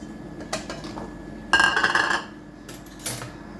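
Homemade ranch and red chili sauce stirred in a bowl, with clinking of a utensil against the dish in a few bursts, one longer scraping stretch in the middle, close and clear.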